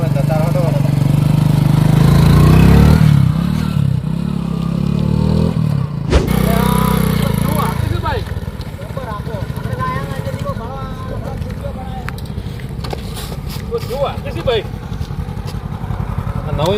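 A new motorcycle's engine runs with a steady low rumble for the first several seconds, then carries on more faintly beneath people talking over it.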